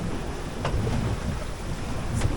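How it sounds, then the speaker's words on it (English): Sailboat under way on the open ocean at night, steady wind and water rush with waves washing along the hull and a couple of brief splashes, no talking. "We're still sailing."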